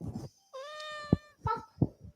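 A cat meows twice nearby, a drawn-out tonal cry followed by a shorter one, with faint soft bumps and handling noise between calls.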